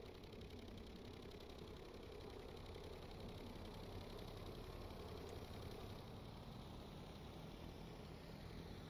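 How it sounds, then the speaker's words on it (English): Engine idling in the Stormworks video game, a steady, continuous drone with a slight knocking texture that holds at an even level throughout, with no voices over it. "I'm really digging the new engine sound on this so far."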